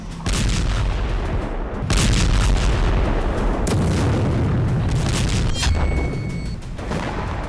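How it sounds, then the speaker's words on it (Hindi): Multiple explosions near a Russian airbase in war footage, heavy booms and bursts of artillery-like fire rolling loudly and continuously, with sharp blasts standing out among the sustained din. "एयरबेस के पास कई धमाके हुए।"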